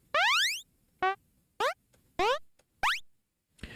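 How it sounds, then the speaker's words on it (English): Five synthesized retro jump sounds made in Bfxr, each a quick bright robotic, slicing sweep rising in pitch, spaced about half a second apart, with one more cut off at the end. "that was a robotic slicing kind of a jump sound"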